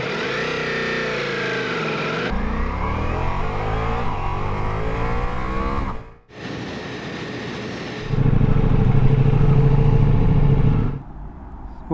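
A Ducati Multistrada V4S motorcycle riding on the road, its engine revving up through gears with rising pitch, a brief shift dip, then a loud steady drone before easing off.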